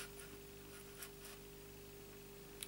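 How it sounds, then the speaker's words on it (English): A pencil makes small marks on paper while a Bannister garland papercraft project is measured out, with faint scratchy strokes at a few moments in an otherwise quiet room. "then just another little pencil mark"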